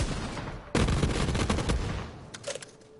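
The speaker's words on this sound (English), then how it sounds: "this is a pretty interesting shotgun right here" A single loud, booming shotgun blast in a PS4 video game, sharp onset, its heavy rumble decaying over about two seconds, followed by faint mechanical clicks.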